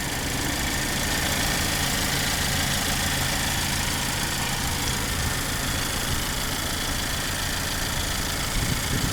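A Kia Stinger GT-Line's turbocharged 2.0-litre four-cylinder idles steadily and close, a constant even hum with a faint whine and broad hiss and no change in revs.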